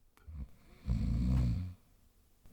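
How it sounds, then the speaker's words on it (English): A single deep, rumbling snore from a heavy sleeper, swelling and fading over about a second, close and fairly loud amid quiet breathing. "Waking in the middle of a prodigiously tough snore"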